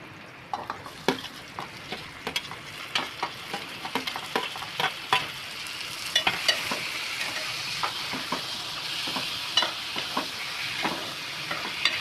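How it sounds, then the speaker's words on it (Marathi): Onion and tomato stir-fried in oil for paneer bhurji, a soft sizzle beneath repeated sharp scrapes and clinks of a spatula against the pan, coming in an irregular rhythm, close and fairly quiet. "कांद्यामध्ये टमाटर चांगलं परतून घ्यायचं तेलामध्ये कांदा टमॅटो तेलामध्ये पकून घ्यायचं"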